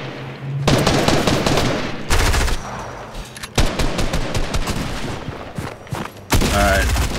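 Gunfire in the video game Fortnite comes in loud, rapid bursts of repeated shots, broken by short pauses before each new volley.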